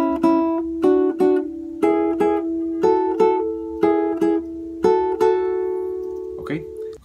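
Guitar phrase from the Paraguayan song Punteada Okara: a sequence of plucked notes in short repeated pairs over a ringing lower tone, close and clear, played solo without talk.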